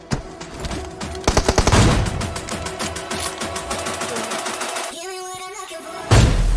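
Automatic gunfire in the PUBG Mobile battle game: rapid bursts of shots, loud and close, with a dense rattling volley early on, a pause with a whine, then a final blast.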